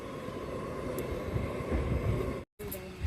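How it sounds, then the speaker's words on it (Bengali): A train rumbles past in the distance, a steady low, faint rolling drone that holds throughout an open outdoor morning scene, with a brief cut near the end. "আর ওই দূরে ট্রেন যাচ্ছে ওইখানে"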